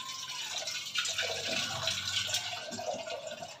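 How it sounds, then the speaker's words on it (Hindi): Water runs into a vessel to make tea on a gas stove at home, with a trickling, splashy pour that rises and wavers, fairly close and moderately soft. "और मैं चाय के लिए पानी ले लेती हूँ फटाफट"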